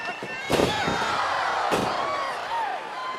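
A wrestler's lariat hits in the ring at a SmackDown match between Naomi and Alexa Bliss, with a sharp slam of bodies on the mat, a second thud soon after, and an arena crowd roaring throughout.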